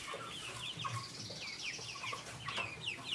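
Chickens clucking on a farm: several birds giving soft, repeated clucks and short chirping calls, overlapping at moderate distance over a steady outdoor background hum.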